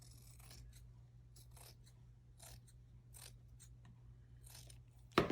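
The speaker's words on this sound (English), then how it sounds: "I am going to cut a little bit more fabric here." Scissors snip through fabric while a basic bodice sloper for a doll is draped, a run of short, crisp cuts at an uneven pace, close and fairly quiet against a low hum, with no talk.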